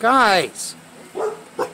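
Dogs barking outdoors, with a loud close bark first and then a few shorter, quieter barks, while a person calls out briefly.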